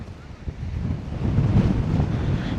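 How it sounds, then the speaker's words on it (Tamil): Strong mountain wind on the Hakgala range in Sri Lanka buffets the microphone in a loud, continuous low roar that builds in strength partway through, with no other sounds standing out. "பயங்கரமாக இருக்கு காற்று."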